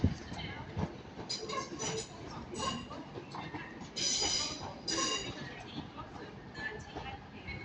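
A Class 390 electric train moves through Manchester Piccadilly station with a steady rumble and rolling rail noise, marked by a few brighter clanks and surges, while people talk nearby.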